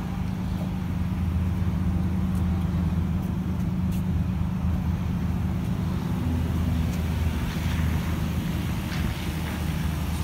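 A 2009 Toyota truck fitted with a hard camper sits running, its engine giving a low, steady idle rumble close by with faint intermittent ticks and no talking.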